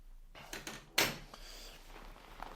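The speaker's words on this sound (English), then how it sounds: "I'm going to shut the door." A puppy crate door swings and clicks shut with one sharp latch clack, preceded by lighter rattling taps, close and quiet in an indoor room.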